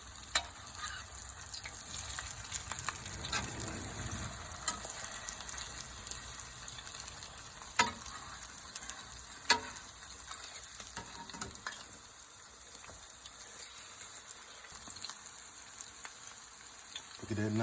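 Salmon patties fry in a pan just after being flipped, making a soft, steady sizzle with occasional light clicks and scrapes, heard fairly close and quiet, with no talking.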